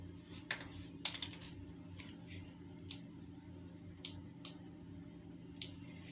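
Amount being typed on a computer keyboard: a few quick key clicks early on, then several sparse single taps over a low steady hum, close and faint with no talking.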